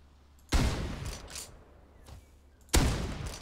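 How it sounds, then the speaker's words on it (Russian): Two loud, close blasts from a regular shotgun in Rust, each a sharp crack with a decaying tail, spaced about two seconds apart, with a fainter thud in between. "Начнем с обычного дробовика."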